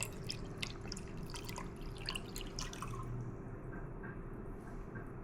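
Water is poured into a bowl while making bagel dough, giving a close, steady trickling and dripping that fades out toward the end.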